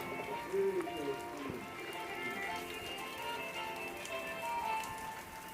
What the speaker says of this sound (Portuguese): Mas, rapaz, olha. A chuva arrochou, ó.